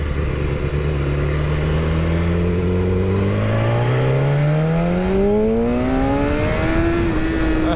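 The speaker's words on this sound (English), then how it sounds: "S1000RR highway acceleration mini test." A 2012 BMW S1000RR sport bike accelerates hard along a highway, its engine note climbing steadily in pitch through the gear under constant loud wind rush, close and continuous.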